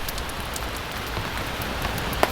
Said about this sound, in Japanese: このソロベースが雨を弾く音